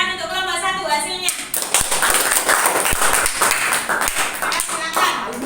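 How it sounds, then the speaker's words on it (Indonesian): Students in a mathematics classroom clap for a group after its presentation, a burst of brisk hand-clapping starting after a moment of voices and continuing loudly to the end. "Tepuk tangan untuk kelompok 1 hasilnya."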